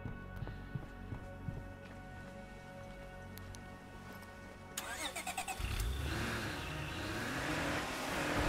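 Car engine in the State of Decay video game, quiet ambient hum at first, then the engine turns over and rises into a louder, steady revving drone for the last few seconds.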